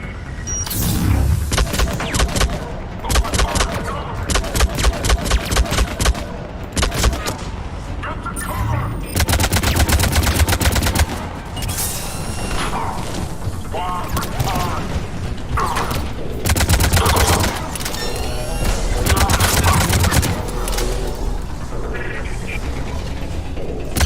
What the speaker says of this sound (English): Are you shooting at them?